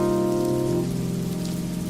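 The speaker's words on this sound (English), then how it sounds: "the rain came down even harder. It came down so hard" Heavy rain pours down in a dense, steady roar with a deep rumbling undertone, loud and close throughout.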